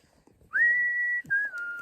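A small child tries to whistle, blowing a short wavering note that holds, breaks off briefly and then slides down in pitch, quiet and close.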